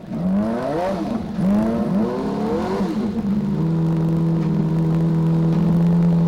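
A turbocharged IndyCar race engine warming up, loud and close, blipping and revving in several rising pulls before settling into a steady, droning idle hum.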